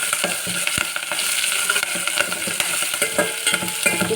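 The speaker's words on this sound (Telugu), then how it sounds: "ఆ తర్వాత కరివేపాకు, ఇవన్నీ బాగా వేగాలండి." Chopped onion and curry leaves fry in a pan for village-style black-eyed pea curry, a steady close sizzle with scraping stirring strokes throughout and no talk.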